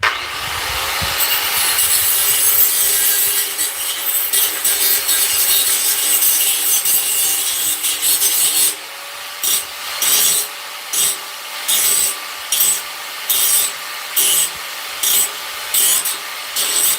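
A grinder works on burrs inside a metal pipe, rasping continuously at first, then cutting in short rhythmic bursts with brief gaps. The sound is loud and close, with no talk.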